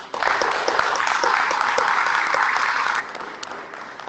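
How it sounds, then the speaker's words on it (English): An audience at a neighborhood summit applauds a speaker in a warm, steady burst of clapping that holds evenly for about three seconds before dropping off into a few scattered claps. "Let's give her a round of applause."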